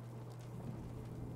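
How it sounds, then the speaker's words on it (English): Steady rain in the Fallout game world, a constant low wash with a faint hiss above it, heard alone and evenly loud throughout. "Hope this rain lets up soon."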